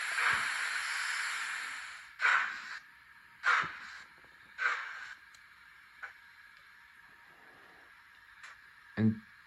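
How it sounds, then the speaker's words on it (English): A crow caws several times at irregular intervals, loud and harsh calls separated by pauses, over a faint background hiss. "that's not bad for a crow either."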